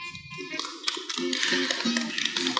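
An audience claps in steady rhythmic beats alongside music, the clapping close and moderately loud with no voices.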